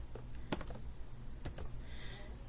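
Keys clack on a computer keyboard in a short, uneven burst of a few taps, close and fairly crisp against a quiet room.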